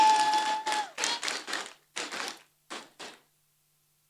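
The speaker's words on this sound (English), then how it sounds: "Can we clap for the APC?" Bursts of audience clapping at a political party's women's national conference in Nigeria come in several short, uneven waves that grow sparser and trail off into silence before a final sharp noise.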